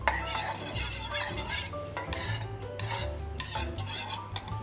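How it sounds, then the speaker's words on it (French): A small spoon stirs a honey vinaigrette, scraping and clinking steadily against the bowl in close, continuous, rhythmic strokes with short pauses between bursts. "je mélange jusqu'à avoir une texture un peu sirupeuse grâce au miel"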